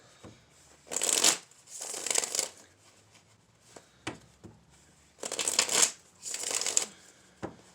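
A deck of tarot cards is shuffled in four crisp, riffling bursts up close, separated by quiet gaps and a few soft taps.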